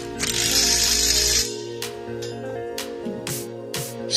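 Ratchet wrench tightening a bolt to full tension on a steel dueling tree target mast, a burst of rapid clicking at first, then a few separate close ratchet clicks and clacks, no talking.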